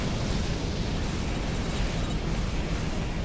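A destroyed land crab enemy explodes in the Armored Core mech game, heard as a dense, steady roar of blast noise filling the whole clip without letup.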